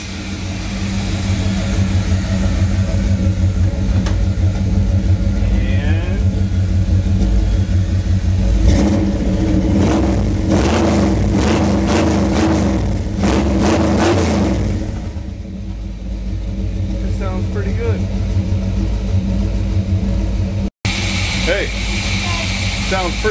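Car engine idles steadily after starting, a low rumbling hum with a brief stretch of revving in the middle, under intermittent talk nearby.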